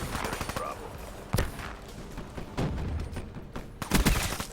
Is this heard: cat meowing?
no